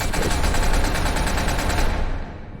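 Rapid automatic gunfire fills the whole burst in the first-person shooter SCP: Secret Laboratory, a loud, dense rattle of shots that cuts off near the end.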